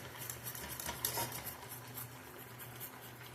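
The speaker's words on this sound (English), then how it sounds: "we just whisk until this comes to a nice" A whisk scraping and tapping steadily in a pot, thickening gravy for a one-pot chicken and vegetable dinner, a soft continuous patter of metal against the pan with faint irregular clinks, close and quiet with no talk.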